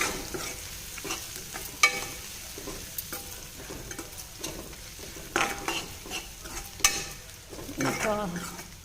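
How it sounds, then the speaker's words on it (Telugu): Softened onions fry in a pan as turmeric is stirred in, with repeated scraping and clattering stirs over a soft continuous sizzle, close by. "ఆనియన్స్ సాఫ్ట్ అయినాయి కదా, దీంట్లోకి సరిపడినంత పసుపు యాడ్ చేసుకొని మిక్స్ చేసుకోవాలి."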